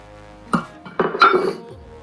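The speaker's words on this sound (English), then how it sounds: "Now we're going to take our 1 cup of old-fashioned oats and put them in the bowl." Old-fashioned oats tipped into a bowl: a few separate clinks and a brief rustling pour, close by and fairly quiet, with no talk.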